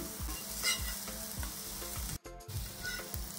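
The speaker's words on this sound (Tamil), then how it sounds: "ஃப்ரை ஆகிட்டு இருக்கு" Slices of elephant foot yam fry in a pan of oil with a steady close sizzle. Stirring scrapes repeat at a regular pace, and the sound drops out briefly near the end.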